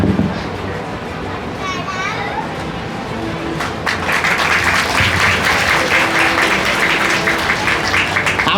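Audience clapping at a Leuva Patel community award and get-together ceremony in Ahmedabad, starting sparse and swelling into steadier applause after a few seconds, with children's voices and chatter mixed in and a voice briefly heard.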